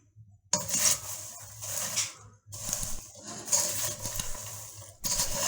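A spoon scrapes and clatters against a metal pot while freshly popped popcorn coated in seasoning powder is stirred from bottom to top, giving a few irregular bursts of rattling and rustling with short pauses between them.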